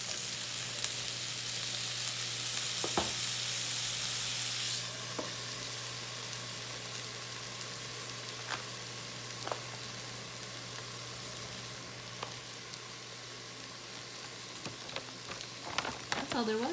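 Frozen chicken lo mein noodles with sauce sizzle steadily in a pan, a constant hiss that is louder at first, with occasional stirring clicks and scrapes.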